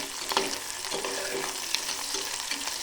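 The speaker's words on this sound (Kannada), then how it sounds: "ಈ ಥರ ಉಳ್ಳಾಗಡ್ಡಿ ಬ್ರೌನ್ ಆಗ್ತಾಯಿದೆ" Onions browning in a pan with ginger, garlic and coriander paste for masala rice, a steady loud close sizzle with occasional light scrapes and taps of a spoon, no voices present.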